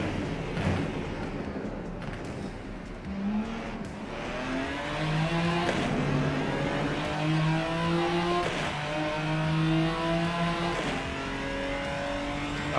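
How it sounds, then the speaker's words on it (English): A racing car in the Rennsport video game revs through its ZF gearbox, its engine note climbing in pitch, dropping at each shift and climbing again, with a rasping, burbling edge that stays steady and moderately loud. "The ZF gearbox farting noise from this is quite excessive."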